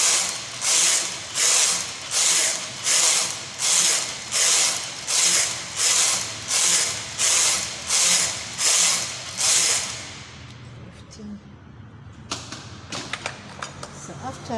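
Knitting machine carriage sliding back and forth across rows of a baby beanie, a regular series of about a dozen rasping mechanical sweeps close up, then quieter clicks and handling noise as the rows end.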